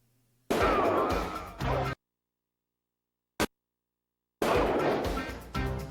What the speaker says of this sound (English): Random explosion, naturally.